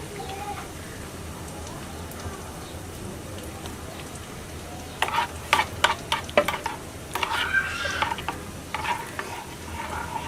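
Chicken pieces frying in a little oil for a cashew chicken salad: a soft steady sizzle at first, then a run of clattering stirs and louder spattering in the second half, close by.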